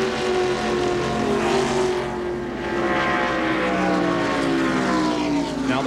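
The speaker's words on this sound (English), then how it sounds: "You'll hear a more traditional sound with the 24." Jeff Gordon's No. 24 NASCAR stock car racing at Daytona International Speedway in the 1995 Pepsi 400, a loud continuous engine roar with shifting pitch as it passes, with no talk.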